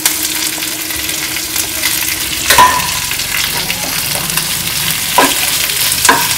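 Boiled, mashed potatoes fry loudly in a pan for dosa masala, a constant strong sizzle with occasional spatula scrapes and knocks against the pan.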